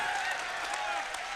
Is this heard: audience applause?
yes